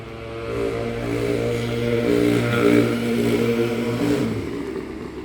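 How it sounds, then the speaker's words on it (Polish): A small two-stroke engine fitted to a bicycle revs steadily nearby, its buzzing drone rising and holding for several seconds before dropping off near the end, with no talk over it. "dwusuwy wiecznie żywe, jakiś miejscowy nastolatek sobie sprawił silnik do roweru"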